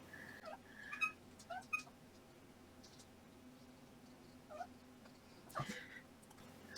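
A pet cat named Bella meows several times indoors, short high mews scattered over a quiet room hum, fairly faint with brief pauses between calls.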